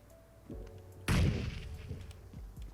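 A grenade blast in the battle game PUBG Mobile goes off as one loud, close boom with a broad rumbling tail. A few fainter thuds come before and after it.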